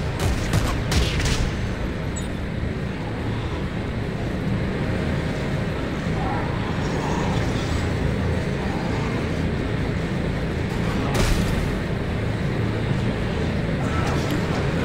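Gunfire from the video game Dead Space 3 comes in rapid bursts within a loud, dense wash of game noise, with a few sharper cracks standing out and a voice mixed in.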